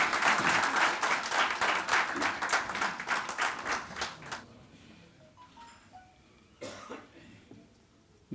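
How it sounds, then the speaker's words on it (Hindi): Applause from the audience at an Urdu mushaira and seminar in Qatar, welcoming a guest speaker: a dense burst of clapping that fades out after about four seconds, followed by a few scattered coughs in a quieter hall. "आपकी भरपूर तालियाँ।"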